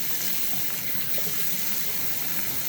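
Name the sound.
tap water running while rinsing off a tomato face mask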